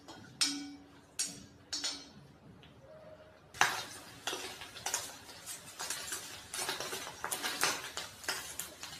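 Boiled egg cubes fry in a pan over a medium flame, with a few sharp utensil clinks early on, then a steady crackling sizzle with clattering stirring close by.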